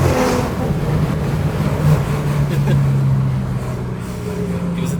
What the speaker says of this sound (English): It was a downshift.